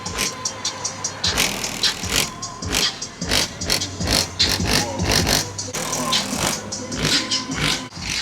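Thumping car bass from Kicker Solo Baric subwoofers in a $30 box as the car drives off, a steady pounding beat with scraping and rattling over it that stays loud throughout.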